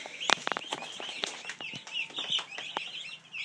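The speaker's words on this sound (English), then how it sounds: "we have our most recent batch of meat birds as well as our turkeys" Meat-bird chicks and young turkey poults peep and chirp in a busy, overlapping chorus in a brooder, with a few sharper calls standing out, close by and fairly constant.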